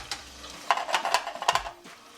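A cooking pan handled and cleaned while making patty melts, with a few light clinks and scraping taps close by, arriving in short bursts over about two seconds.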